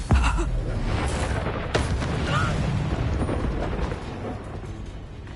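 Confringo blasting spell in a Hogwarts video game, going off as a loud booming explosion with a crackling burst and a short sharp impact, followed by rumbling debris and combat noise.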